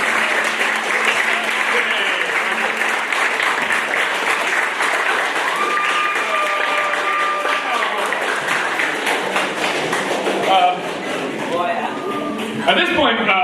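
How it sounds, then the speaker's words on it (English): A school concert audience gives the student music makers a sustained round of applause, steady and full for most of the stretch before thinning toward the end, with a few voices rising over the clapping. "So we'd like a round of applause for our John Mandello Memorial Music Makers."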